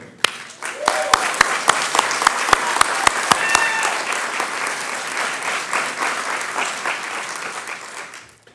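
Graduates at the MEDEX Northwest Tacoma Class 5 graduation applaud their family members and friends, a dense roomful of clapping with a few sharp close claps at the start, holding steady and loud for the whole stretch.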